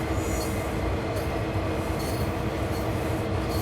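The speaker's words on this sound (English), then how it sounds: "Let's go ahead and add a little bit of brake while we can watch our speed here as we're going down this grade" A freight train braking down a grade in Train Sim World 2 gives a continuous heavy rumble with squealing wheels and metallic rail noise, steady and loud throughout.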